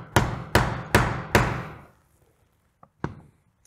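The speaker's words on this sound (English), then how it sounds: "we're going to use a number or a 1 inch slot punch. And this is a Weaver brand slot punch." Weaver 1 inch slot punch struck to cut slots in a leather belt: four sharp, evenly spaced hammer blows that ring out briefly, followed by a faint tap and one last strike.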